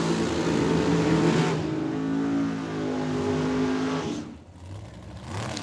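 A Super Street Camaro and a Mustang make a drag race run at Tucson Dragway, engines roaring hard and close, then dropping away after about four seconds before rising again.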